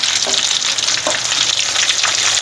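Curry leaves sauté in a pan, giving a loud, continuous sizzle with a few faint scraping stirs and no talk.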